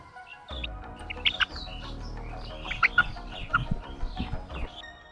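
A tethered hen gives sparse, chirpy clucks and short squeaks that come and go over a steady low rumble, fairly faint and without any talking.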